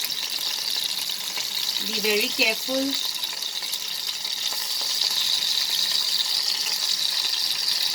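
Potatoes frying in hot oil, the oil crackling and hissing steadily and close by, with a brief spoken warning partway through.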